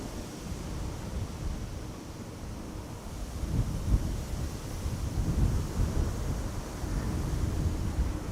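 Strong gusty wind buffets the microphone at an airport, a loud continuous low rumble that swells and surges in gusts throughout, with no voices.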